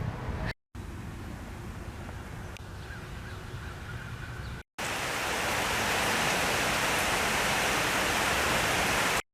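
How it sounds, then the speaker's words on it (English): Steady rain falls in Ashtabula, Ohio, a constant hiss that swells louder partway through, with no voices. "This rain ain't stopping."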